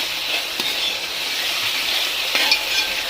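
Tomato ketchup pasta sauce is sautéed and stirred in a pan, a soft continuous sizzle with a couple of light utensil taps against the pan.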